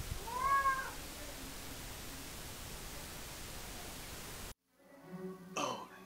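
A domestic cat gives one short, clear meow near the start over a steady hiss of background noise. The hiss then drops away, and a rough throat-clearing or cough-like sound follows near the end.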